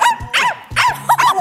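A person imitates a puppy barking with a string of short, high yips and little barks delivered close and loud on a Korean variety show.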